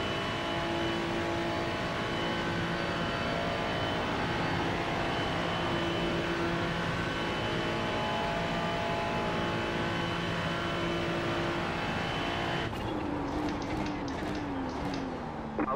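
A Ferrari 296 GT3 race car at Monza in a racing game holds a steady high-pitched engine whine with a constant tone, changing near the end as the revs drop and crackle.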